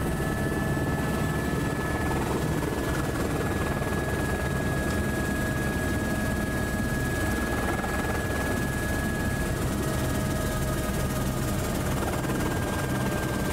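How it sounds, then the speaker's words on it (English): A helicopter's turbine engine and rotor drone loudly and continuously from close range in Alaska, a steady whine running over a deep throbbing roar throughout. "cut the motor and the turbine winds down"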